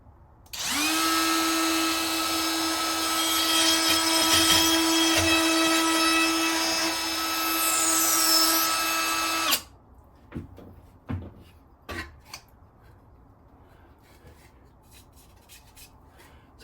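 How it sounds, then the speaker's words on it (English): A plunge router fitted with a straight cutter bores a hole in a template, a loud high steady whine lasting about nine seconds, then cutting off, followed by a few close clunks and knocks as the tool is set down. "I use a straight cutter and I plunge it in and I make a hole."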